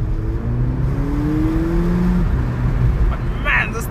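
A 2019 VW Polo GTI pulls hard under acceleration, engine note climbing in pitch across several seconds with steady road and wind roar inside the cabin, and someone talking over it.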